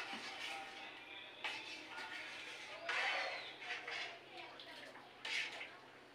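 Coconut milk simmers and bubbles in a cooking pot, a soft continuous gurgle with faint pops and a few louder surges, low and close.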